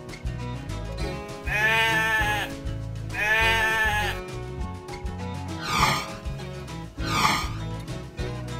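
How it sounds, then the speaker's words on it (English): A sheep bleats twice in drawn-out wavering calls, then gives two shorter bleats, fairly close and clear over a steady low farmyard background. "sheep"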